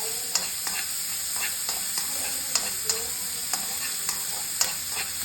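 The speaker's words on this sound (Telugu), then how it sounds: "స్పూన్ తీసుకొని కొంచెం అటు ఇటు తిప్పిన తర్వాత, ద్వారగా వేగిన తర్వాత కొంచెం రెడ్డిష్ కలర్ రాగానే" A spoon stirs curry ingredients frying in a pan, sharp regular scrapes and taps recurring about every half second over a constant sizzling hiss, close and fairly loud.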